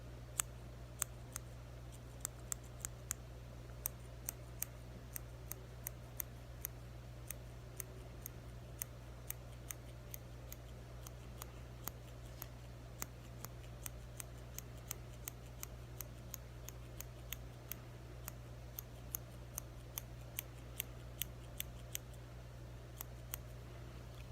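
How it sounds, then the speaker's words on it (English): Small scissors snip repeatedly at little facial hairs during a men's shaving role play, crisp close clicks in an irregular rhythm over a steady low hum, with no talking. "Let me just use the other scissors to get the little hairs that I missed."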